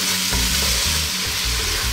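Tomatoes and onions sauté in a pan for a chicken pochero, with a loud steady sizzle broken by the scrape of stirring.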